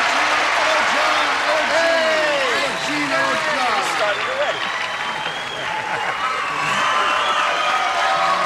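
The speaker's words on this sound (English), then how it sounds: "let's all join in a big round of applause and say, hello, stars" Studio audience applause and cheering on a variety show set, a continuous loud wash of clapping with whoops and voices rising over it throughout.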